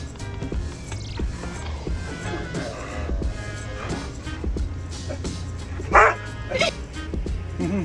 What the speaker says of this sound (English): Look at this dog. She's a maniac.